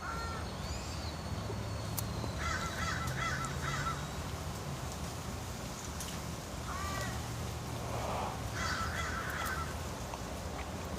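Crows cawing in short bursts of three or four harsh calls, repeated several times over steady background noise, fairly near, without talking.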